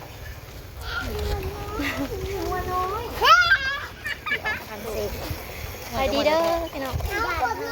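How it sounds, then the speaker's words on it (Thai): Children play and chatter in a Lao village along the way to a market, their lively, overlapping high voices close by amid outdoor ambience, with an adult speaking briefly. "เสียงเด็กๆ"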